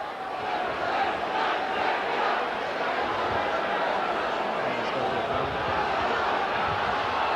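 A rugby league stadium crowd at a 1990 Leeds v Castleford playoff reacts to injured player Lee Cooks, a steady, broad roar of many voices holding at an even level throughout.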